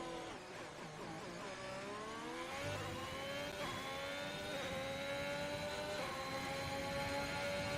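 Formula 1 cars crossing the finish line at the French Grand Prix in the F1 2021 racing game: steady, loud high-revving engine whine with rising and shifting pitch as cars pass, with no talking.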